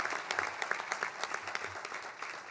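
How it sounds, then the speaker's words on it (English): A crowd at a mayoral inauguration ceremony applauds steadily, a dense wash of clapping hands that holds at an even level throughout, with no voices standing out. "Let's give them a nice round of applause"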